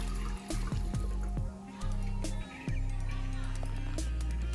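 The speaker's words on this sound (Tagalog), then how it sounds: "dito na rin tayo kukuha ng tubig dahil hindi tayo pwedeng kumuha sa gripo ng tubig" Water is scooped and poured into a container for betta fish, with a series of close, splashy pours and trickles broken by short pauses.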